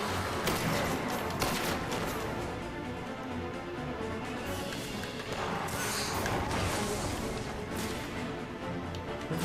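Heavy gunfire and explosive blasts from a giant cannon in the Destiny video game crash in a dense, continuous barrage with loud bursts, with no talking.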